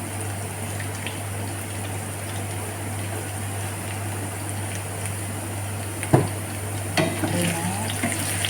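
Canned tuna and mixed vegetables fry and brown in a pan with a steady, close sizzle and a constant background hum, broken by a few brief scraping stirs.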